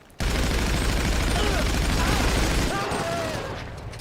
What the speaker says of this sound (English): He's got a minigun, so let's not...